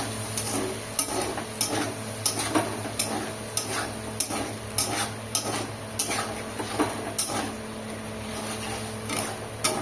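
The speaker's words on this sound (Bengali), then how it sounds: "এবার গ্যাসটা আস্তে দিয়ে এটাকে আমি কষিয়ে নেব" Beaten yogurt and spices sautéed over low gas in a pan for doi katla, a soft continuous sizzle under a ladle's regular scraping strokes and clinks against the pan.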